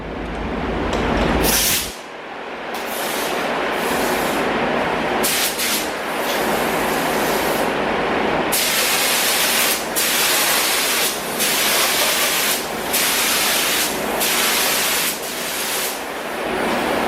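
Silver spray paint goes onto a 1977 Honda Hondamatic motorcycle as a second coat. Loud, close aerosol hissing comes first as a short burst, then as a long continuous spray broken by brief pauses.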